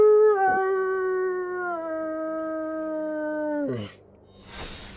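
A person imitates a wolf with one long, sustained howl that holds a steady tone and then drops in pitch at the end, loud and close, followed by a short burst of noise.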